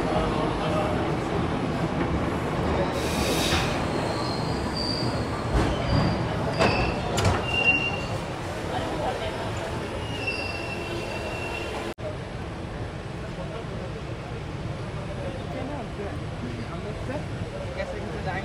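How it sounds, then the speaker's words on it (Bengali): A passenger train pulls out of Asansol station, its wheels rolling and clattering steadily on the rails with occasional squeals, while people talk nearby throughout. "আপাতত ট্রেন ছেড়ে দিয়েছে।"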